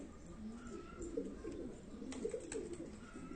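Pigeons or doves at a bird-keeping spot coo softly, a faint, continuous low murmur of calls with a few brief higher chirps over a quiet background.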